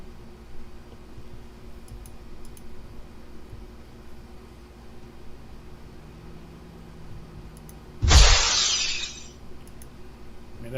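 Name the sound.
breaking glass sound effect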